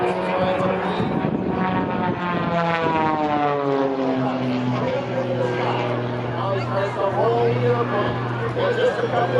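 An MX2 aerobatic propeller airplane's engine drones loudly and continuously through a hammerhead maneuver at an airshow, its pitch bending and sweeping as the plane pivots, with an announcer talking over it throughout.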